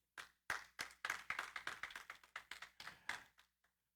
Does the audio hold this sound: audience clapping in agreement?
yes